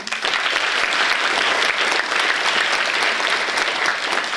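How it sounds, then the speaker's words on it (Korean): Students at a school general assembly award ceremony applaud the prize winners, a loud, dense, sustained burst of many hands clapping from start to finish. "다시 한번 수상한 학생들에게 힘찬 박수 부탁드립니다"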